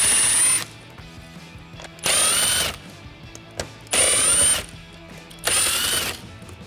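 Four bursts from a power tool undoing 8mm grille bolts on a 2018 Mustang, each whirring for about half a second to a second with short pauses between, close and loud.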